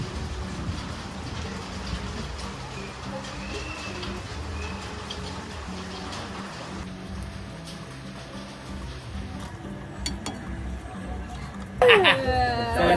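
Steady rain falls outdoors during a thunderstorm, a continuous soft patter and hiss, with a few bird coos and a sharper clatter near the end.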